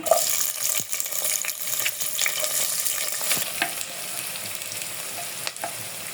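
Chopped onion, about half a cup, frying in hot oil in a cooking pot, giving a bright continuous sizzle with sporadic pops and faint stirring scrapes, close and steady, no voices.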